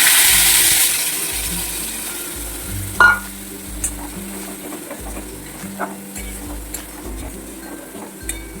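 Spice paste blended with yogurt sizzles in a hot pan, a loud burst of frying at first that settles into steady hissing, with a few sharp utensil knocks and scrapes along the way.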